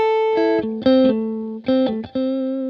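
An electric guitar with effects and distortion plays single chord-tone notes over a minor 7 vamp, in a few sustained, clearly separated phrases with no talking.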